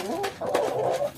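A Bedouin rooster gives a brief, close, low clucking call, heard only for a moment and fairly quiet.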